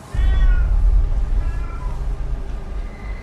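A cat meows loudly and close by in a few drawn-out, wavering cries, with a low rumbling background underneath.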